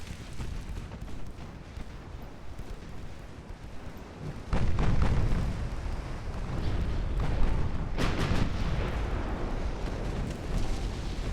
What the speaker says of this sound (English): torpedo detonation over there on one of the cruisers